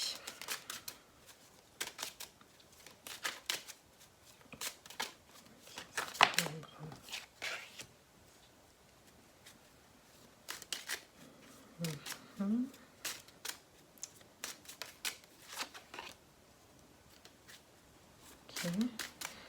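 Tarot cards are shuffled by hand in bursts of crisp, riffling flutters and soft slaps, fairly close and quiet, while someone speaks French in the gaps.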